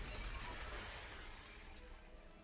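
A shattering sound effect bursts out as a dense, loud crash of breaking debris that slowly thins and fades, with no talk.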